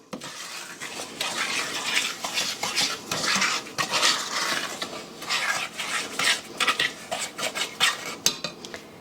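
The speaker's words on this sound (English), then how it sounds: "I'm going to stir that in just a little bit" A utensil scrapes and clinks steadily around a pan, stirring evaporated milk into a cherry mash fudge mixture, close and alone with no talk.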